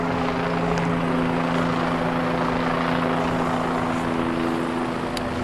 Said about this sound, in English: The helicopters, of course, are around it.